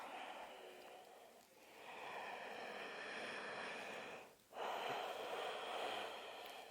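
Slow, deep yoga breaths, a long audible inhale and then a long exhale with a short pause between, close to the mic and steady, with a quiet room behind and no talking.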